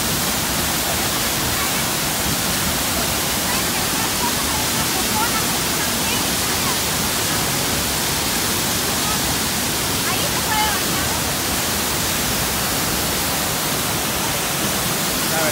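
The Panaluya waterfalls and river in Río Hondo, Zacapa, roar in a loud, unbroken wash of rushing water that stays even and steady throughout, with no voices heard.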